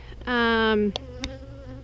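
A single honeybee buzzes close by during a chilly late-October hive check, a loud steady whine lasting about half a second, followed by a couple of faint clicks.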